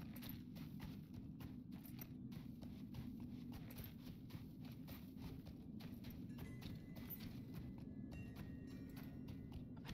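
Horse hooves clip-clop in a steady, continuous walking rhythm while riding through a snowy landscape in the Lord of the Rings Online video game, moderately loud and alone.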